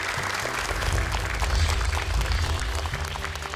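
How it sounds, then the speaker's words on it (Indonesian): Studio audience applauding a team on a Quran recitation competition show in Indonesia, a dense burst of clapping that holds steady for several seconds, loud and close. "Boleh tepuk tangan lagi untuk tim kedua ini."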